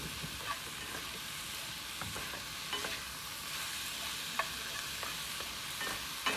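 Food sizzles and crackles steadily in a skillet pan on a camping burner during a stealth camp in a Transit Connect van, a continuous close hiss broken by scattered small pops and stirring scrapes, with no talking.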